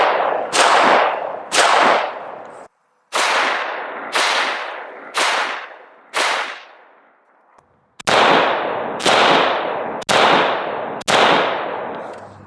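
Sharp, loud rifle shots from an AK-47 with a 16-inch barrel and a Circle 10 flash hider, fired outdoors on a range: about ten evenly paced reports, each with a quick trailing echo and short pauses between.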